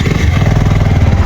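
A large motorcycle on a mountain road trip through Nepal's Jajarkot to Dunai route gives a loud, close, steady engine drone with a low rhythmic thrum throughout.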